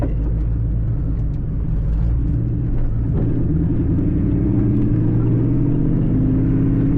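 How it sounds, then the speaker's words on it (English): A car engine droning steadily while driving on a road, a loud low rumble that rises in pitch as the motor revs higher, constant and close with no talking. "This motor really likes to be up on the RPM and not in the low RPM"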